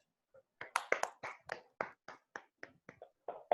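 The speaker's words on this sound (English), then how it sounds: "I think we must give him a round of applause for that." A small Toastmasters club audience gives a brief round of applause. The claps are sparse and distinct, fairly soft, and come in an uneven rhythm over a few seconds.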